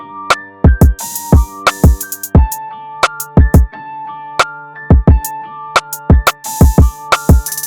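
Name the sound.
hip-hop drum samples with open hi-hat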